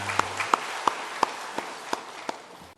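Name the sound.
church congregation applause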